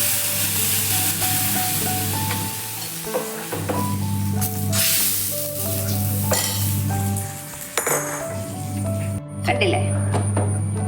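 Mustard seeds and fenugreek crackled in coconut oil are poured into a rasakalan curry, giving a hissing sizzle and clatter of a pan beneath steady background music.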